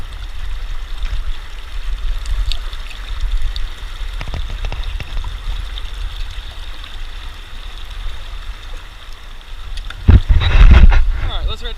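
Water rushes steadily through a gold prospecting sluice set in a river in Salida, Colorado, a constant close wash with wind buffeting the microphone and a louder splashing surge near the end.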